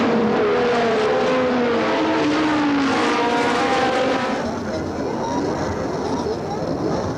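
Formula 1 cars from the 1970 Spanish Grand Prix roar past at speed, their high engine notes rising and sweeping as they race, loud and continuous beneath a voice talking throughout.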